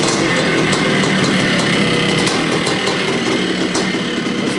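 A 1979 Honda CR250 two-stroke motorcycle engine runs close up, a loud, steady, rough buzzing drone that holds throughout with no speech.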